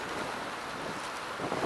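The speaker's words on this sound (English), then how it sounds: "it's a little windy and chilly today" Steady wind gusts outdoors, a broad rushing roar that rises slightly toward the end, with no voices.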